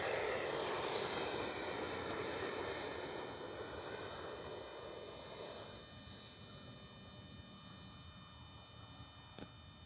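An FMS 64mm F/A-18 Hornet RC jet whooshes past low on a touch-and-go, its steady ducted-fan roar loud at first and then easing off as it pulls away, with a brief pop near the end.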